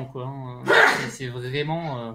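A single sharp sneeze bursts out near the middle of relaxed French conversation, loud and close, with talking continuing before and after it.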